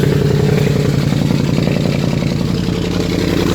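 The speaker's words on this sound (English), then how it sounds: "straight exhaust at this point. Very, very, very loud." A loud, rough Audi S7 engine rumbles steadily through a straight exhaust with a harsh, unmuffled roar, close and continuous.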